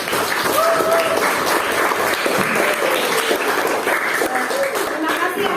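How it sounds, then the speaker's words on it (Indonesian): Schoolchildren in a classroom clap together during a lesson, a moderately loud, slightly uneven burst of applause with a few voices calling out over it. "Tepuk tangan untuk kita semua."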